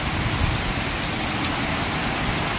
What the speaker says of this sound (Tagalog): bumuhos na naman ang malakas na ulan